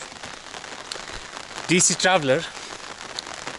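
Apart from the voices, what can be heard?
rain in McLeodganj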